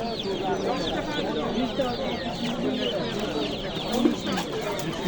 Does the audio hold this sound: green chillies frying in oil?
no